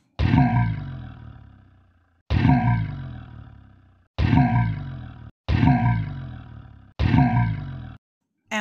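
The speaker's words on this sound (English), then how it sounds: "L for lion. Lion means sher." A lion roars five times in separate powerful bursts, each starting with a loud attack and then fading, spaced about a second or two apart, close and with no other sound around it.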